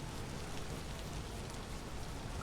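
Steady rain pours down in the video game Vintage Story, a dense even hiss filling the scene without break, fairly loud and close with no voices over it.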